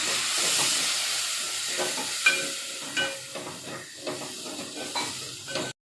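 Water poured into sizzling masala in a hot pan while cooking a wet cashew vegetable, giving a steady steamy hiss with stirring scrapes and clicks, close, ending abruptly.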